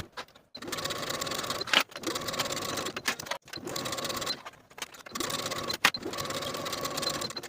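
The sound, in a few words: sewing machine stitching blouse yoke shoulder seams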